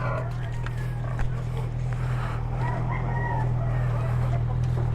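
Rooster crows and hens cluck amid a constant low engine drone, likely from a vehicle on a road trip from La Libertad to Dumaguete in Negros Oriental; the calls are fairly faint and sit under the steady hum.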